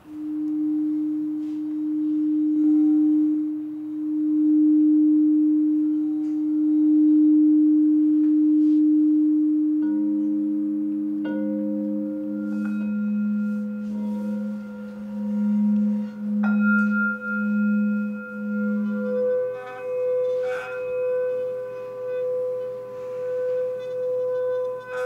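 Sound healing instruments ring out in sustained, pure tones, one long steady note giving way to a lower pulsing tone, then higher bell-like tones layered on top, calm and resonant with no talk.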